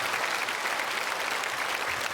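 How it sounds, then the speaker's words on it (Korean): A church congregation at a Sunday worship service applauds steadily throughout, a dense wash of many hands clapping at moderate distance with no voices standing out. "우리 크게 박수로 환영하겠습니다."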